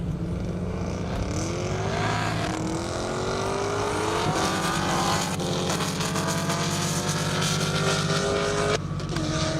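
A Corvette Z06 and a Camaro SS race down a half-mile airstrip, their engines roaring loud and close as the pitch climbs through several gear changes, with no voices.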